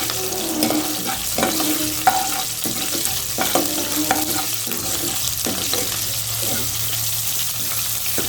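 Curry leaves sizzle and crackle in hot oil in a pan with ivy gourd, with steady frying noise, sharp pops and stirring scrapes running through the whole stretch.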